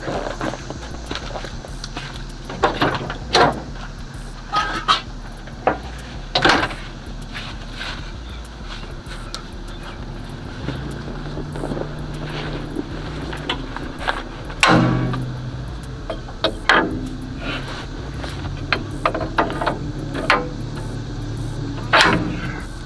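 Sharp, irregular metallic clanks from a hammer on old springs seized for 15 years ring out repeatedly, loud and close, amid scraping and shuffling; a few louder blows land near the middle.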